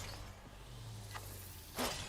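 A single breakable object in the video game Hades shatters near the end, a short bright crash over a low steady game backdrop with a faint earlier click.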